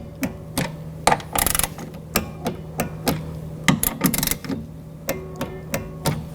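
A torque wrench tightens bolts on a 2000-2006 BMW X5 front window motor, giving a series of sharp metallic clicks and ratcheting snaps in irregular bursts, close and fairly loud with no talking.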